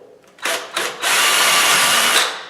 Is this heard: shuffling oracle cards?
no